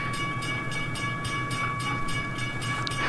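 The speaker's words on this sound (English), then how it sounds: "Abnormally long Amtrak train noises." A long Amtrak train in the Trainz video game rolls past close by, wheels clacking in a steady rhythm over a low rumble, with a constant high-pitched whine throughout.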